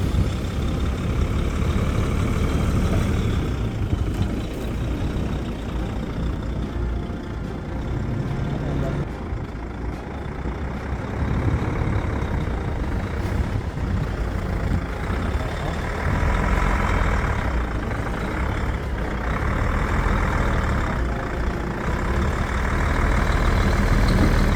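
A heavy DAF or MAN truck engine rumbles loudly and continuously, with a voice speaking at points over the engine noise.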